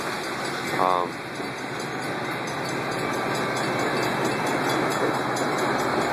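A Metra commuter train at rush hour rumbles steadily nearby with a constant mechanical hum and high-pitched whine, broadband noise filling the space throughout, with a brief tonal squeal early on.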